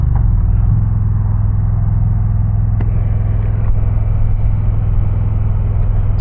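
Indian Challenger motorcycle cruising past a golf course, a steady deep engine and exhaust rumble heard from the saddle, continuous and even with no talk.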